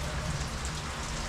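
Steady rain falls continuously in an even, dense hiss, close and fairly loud, with no voices.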